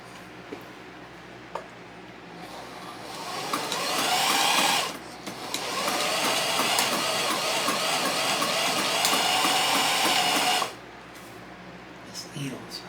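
Sewing machine stitching upholstery for a 1977 Camaro Z28 front seat bottom, a quiet idle that swells into two sustained whirring runs of rapid stitching separated by a brief pause, with some clicks around them.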